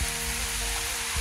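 Steady rain falls on a coconut farm, a soft, even hiss that runs without a break and stays fairly quiet throughout.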